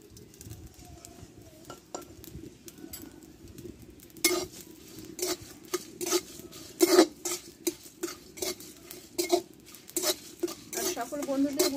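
Whole cumin, coriander seeds, dried red chillies and fennel dry roasting in a wok: a faint hiss at first, then from midway a run of close, repeated metal scrapes and clinks as a spatula stirs the spices.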